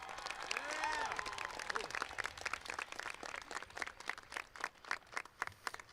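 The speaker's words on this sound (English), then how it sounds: "Let's give them a round of applause." Audience applauding at a high school graduation commencement ceremony, steady dense clapping throughout, with faint crowd murmur and a brief whistle-like tone early on.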